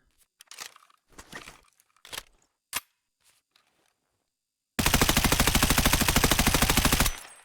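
Suppressed M4A1 rifle fire in Escape from Tarkov, a sustained rapid full-auto burst of about two seconds with evenly spaced muffled cracks, following several brief scattered clicks and handling noises.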